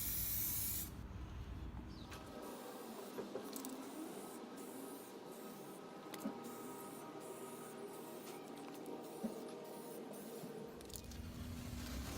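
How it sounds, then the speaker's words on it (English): Aerosol can spraying Rust-Proof Clear coating onto plastic car sidesteps, a steady close hiss running nearly continuously with brief pauses between passes, no talking. "when using the aerosol you apply 3 coats and just leave 30 minutes between coats"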